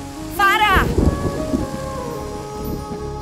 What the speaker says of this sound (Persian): فرح بارون شدت گرفته، برو لباسا رو جمع کن دختر